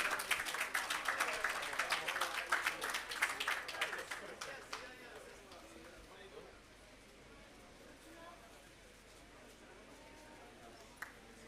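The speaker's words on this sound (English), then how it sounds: "Both of them, please give them a round of applause." Audience at the launch of a farm irrigation system and agro park claps for leaseholders, a burst of applause over the first five seconds that fades into quiet room noise, with one faint click near the end.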